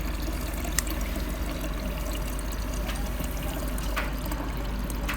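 Filtered water being poured for boiling to make herbal infusions, a steady continuous splashing trickle at moderate level throughout, alone without talk.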